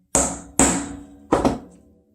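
Three sharp, close metallic hammer strikes tap a roll pin flush into a Ruger LCP pistol, the first two in quick succession and the third after a short pause, each ringing briefly before fading.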